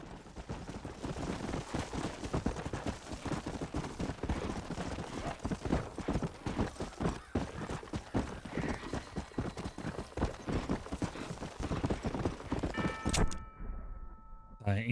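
In the video game Red Dead Redemption, horse hooves clip-clop in a steady, continuous gait for most of the stretch before stopping abruptly near the end.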